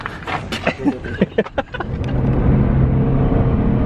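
A powerful Shelby car engine rumbles steadily after some brief clatter and knocks, its deep idle growing louder and holding close by.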